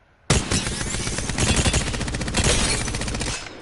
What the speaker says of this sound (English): The Devotion is a standard, fully automatic weapon that increases fire rate over time until it's at its cap point